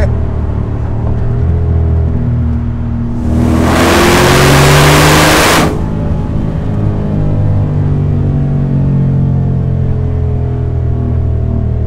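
A Land Rover Defender 90 Works V8 accelerates hard, its deep engine rumble rising in pitch. A loud broadband whoosh of exhaust and wind swells for a few seconds mid-run, then the steady drone continues, with no voices.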